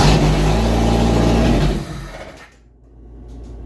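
The engine of a long-abandoned 1988 Jeep YJ runs loud and rough on starting fluid sprayed into the carburetor throttle body, revving steadily close by, then stumbling and dying away after about two seconds to a faint idle hum.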